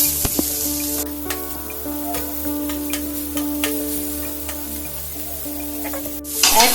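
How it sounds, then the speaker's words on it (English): Prawns sizzling on a hot tawa as they are flipped, a steady frying hiss with a few sharp clicks and scrapes, close and loud, with no talking. "So just flip the prawns"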